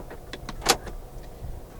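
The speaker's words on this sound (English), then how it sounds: "Central locking." Central locking on a 2018 Toyota Camry actuates with a short series of faint mechanical clicks and one sharper clunk, close and quiet inside the cabin.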